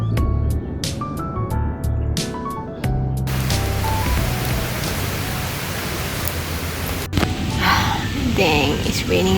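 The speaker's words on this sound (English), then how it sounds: "Dang, it's raining again." Steady rain falls outdoors on a camping trip on Pulau Ubin, a dense continuous hiss with a few brief sharp sounds early on and a short louder patch near the end.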